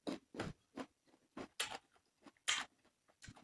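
Crisp, crunchy chewing of unripe green mango in close, irregular bites, loud bursts with quiet gaps between, no talking.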